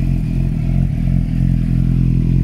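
Suzuki GSX-R600 with a Leo Vince SBK end can and link pipe and no baffle, idling steadily with a deep throbbing exhaust note and slight fluctuations, loud and close.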